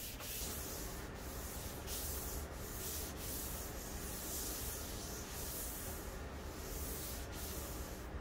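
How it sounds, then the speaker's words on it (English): Steady, close rubbing of a 400-grit sanding sponge lightly across a painted wood surface, with rhythmic back-and-forth strokes producing a soft, continuous hiss. "I use a 400 grit sanding sponge to lightly go over the surface"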